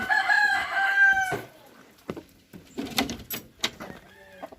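A rooster crows loudly nearby at a rural hillside home on a rainy day, a long drawn-out call, followed by scattered clucks, thumps and small knocks.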